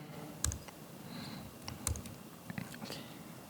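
Sparse keystrokes on a computer keyboard while entering code, a few distinct clicks spaced out over a few seconds against a steady low room hum.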